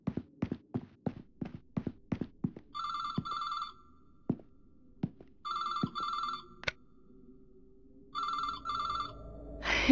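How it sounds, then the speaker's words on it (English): A telephone rings in a video game, three bursts of electronic bell tone spaced a few seconds apart, interleaved with sharp footsteps and knocks in a quiet room. "If I don't pick up, it'll keep on ringing."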